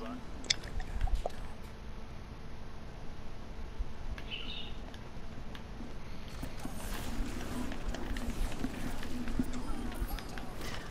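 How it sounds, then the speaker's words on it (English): Rapid footsteps of a character running in the Overwatch video game, a steady patter of quick steps over a busy game soundscape at moderate volume. "I heard your footsteps"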